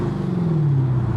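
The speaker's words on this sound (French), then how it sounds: "je mets juste des petits coups de gaz gentils" Dodge Demon V8 idling with a deep, steady rumble and gentle throttle blips, the engine close and loud with a big air-intake note and no talk over it.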